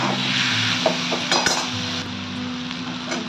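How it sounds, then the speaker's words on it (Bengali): Taro stolons and prawns fry on a high flame, a steady close sizzle under scattered clinks and scrapes of a utensil against the pan. "হাই ফ্লেম দিয়ে এগুলো ভাজতে হবে।"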